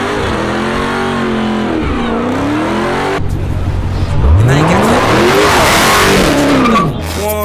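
A Dodge Hellcat V8 revs loudly and close up, rising and falling in several bursts of throttle before a long, harder climb in pitch near the end.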